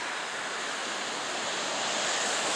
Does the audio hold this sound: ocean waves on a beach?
yes